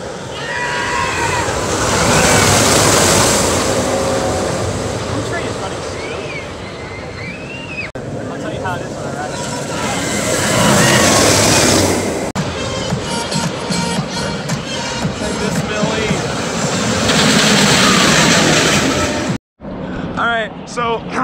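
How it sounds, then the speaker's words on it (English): A ride in the back row of the Millennium Force roller coaster at Cedar Point, with loud continuous wind roar and rushing rumble throughout, rising and falling in waves, with screams and shouts from riders mixed in, ending in a brief cutoff. "So, I just had the best ride I've ever had on Millennium Force"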